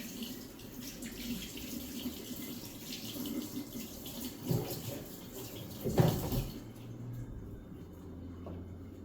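A kitchen tap runs steadily while dough-covered fingers are rinsed under it, a close, continuous water stream with a few louder splashes near the end before it stops.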